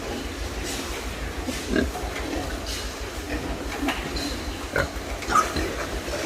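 Fattening pigs kept in a closed-system farm, low grunts and snuffles rising and falling over a steady barn hum, with a few sharper squeals and knocks against pens.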